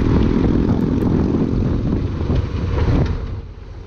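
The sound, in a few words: motorcycle accelerating through an intersection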